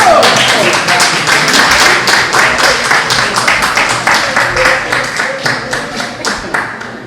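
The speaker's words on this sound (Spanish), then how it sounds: "aplausos." A church congregation claps in steady, fairly loud applause that carries on throughout and fades slightly toward the end.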